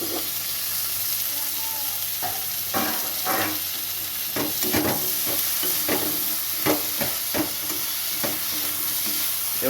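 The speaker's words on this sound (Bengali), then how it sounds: "এবার ভালো করে নেড়ে চেড়ে নিতে হবে" Masala and tomatoes frying in a pan for a Bengali crab curry, with a continuous close sizzle broken by repeated scraping strokes of a spoon stirring, no talk.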